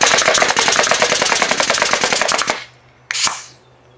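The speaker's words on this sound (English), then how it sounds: "The nailer is capable of very rapid trigger fire while maintaining accuracy." A prototype automatic nail gun fires nails in a fast, loud, even burst of about two and a half seconds, then one more short shot after a brief pause, with no voices.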